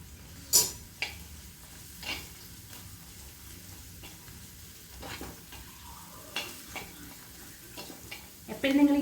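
Ground chili paste frying with wilted onions in a pan, a quiet sizzle broken by scattered utensil scrapes and clinks, with a sharper knock at the end.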